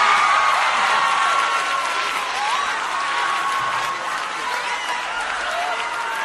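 A concert audience applauds and cheers to welcome a singer onstage, steady dense clapping with scattered whoops filling the space for several seconds.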